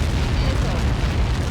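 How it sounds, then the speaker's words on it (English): A massive in-game blast from Helios projectiles striking in Ace Combat 7, heard as a dense, sustained low rumbling roar that fills the whole moment at high volume, with no clear onset or decay. "How many got caught in that explosion?"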